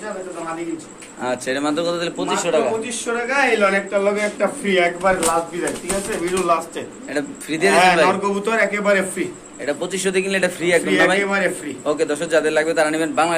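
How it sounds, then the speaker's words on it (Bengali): Imported pigeons coo softly beneath someone talking steadily over them, the birds' low murmurs mostly buried under his voice. "এটা ইম্পোর্ট করা কবুতর"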